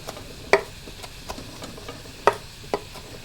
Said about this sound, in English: I'm going to chop up my parsley